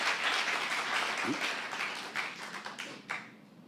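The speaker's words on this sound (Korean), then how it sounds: "박수로 하세요" Dense, steady applause from a church congregation during a sermon, holding strong before gradually thinning out with a few scattered claps at the end.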